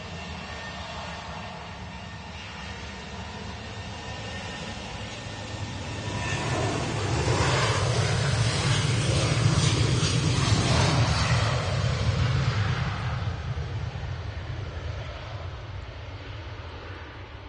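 A Virgin Atlantic airliner taxis at Manchester Airport, its jet engines rumbling steadily and swelling louder midway as it passes close, then easing slightly while it continues on, with no talk.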